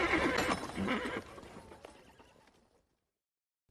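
A horse whinnies loudly up close, with hoofbeats trotting underneath, as the horse is hurried along with a light whip; the sound fades out over a few seconds and ends in silence.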